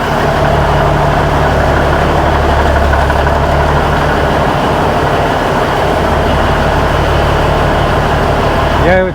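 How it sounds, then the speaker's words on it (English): A vehicle engine idles steadily with a low, constant hum and mechanical drone throughout, loud and close, with no talk over it. "I would say it's idling better, but the throttle response is still pretty slow and lazy"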